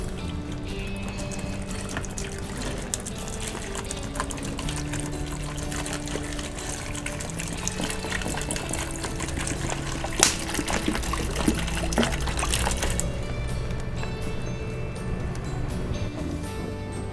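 Water is poured steadily onto a paper carton box coated in Nippon Paint Flex 200 elastomeric waterproofing, a continuous close trickling and splashing over a couple of dozen seconds.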